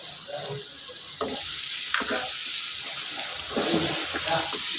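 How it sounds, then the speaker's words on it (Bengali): Onions frying in two spoons of oil in a wok, a steady soft sizzle running throughout with occasional clinks and stirring noises, close by and moderately loud. "কড়াইয়ে আমি 2 চামচ তেল দিয়েছি, দিয়ে পেঁয়াজগুলো আগে একটু ভেজে নেব।"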